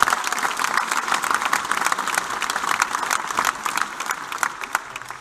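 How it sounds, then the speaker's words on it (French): An audience at the 2016-2017 Union Bordeaux Bègles rugby squad presentation claps loudly and continuously, a dense patter of many hands that holds steady and then tapers slightly toward the end, with no voices over it. "on peut l'applaudir"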